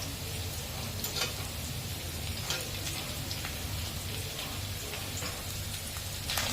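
Ginger garlic paste sizzles in hot oil with fried cinnamon, cardamom and cloves for mutton kosha, a steady, close, crackling hiss that runs without pause and with no talking.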